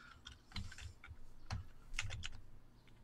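Quiet, close computer keyboard typing: a short run of light key clicks in irregular clusters, alone with no talk.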